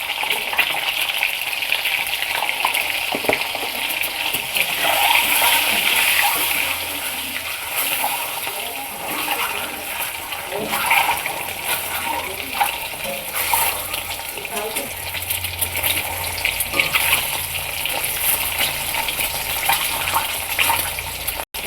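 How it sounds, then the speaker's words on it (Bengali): Eggs fry in hot oil with turmeric, giving a loud, continuous close-up sizzle and crackle that stays dense and unbroken from start to end. "আমার ডিমগুলো ভাজা হয়ে গেছে"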